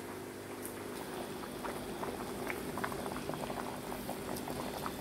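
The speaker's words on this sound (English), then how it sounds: "Mix it in, let it boil for a little bit" Curry made with curry cubes boils in a pot, a steady bubbling simmer with small pops and gurgles throughout, close and fairly quiet.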